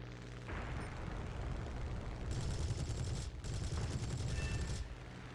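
Aircraft gunfire in the War Thunder video game, dense rapid bursts over a steady engine drone, two long sustained volleys loud and close with a short pause between them.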